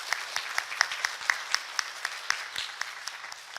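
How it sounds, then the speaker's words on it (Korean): A church congregation applauds to welcome a new choir conductor during Sunday worship, sparse, distinct hand claps in a loose, uneven rhythm at moderate volume, with no talk over them. "우리 같이 박수로 환영하도록 하겠습니다"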